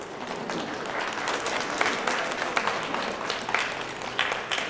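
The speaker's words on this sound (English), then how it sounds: "give a round of applause to the parents that are here today" A round of applause for parents at a National Honor Society induction ceremony, dense and steady clapping from a large seated audience, sustained at an even level throughout.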